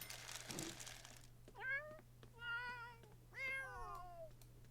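Cats in a video game meow several times in a row, the meows drawn-out and tonal and spaced about a second apart, fairly quiet over a low steady hum with no talking.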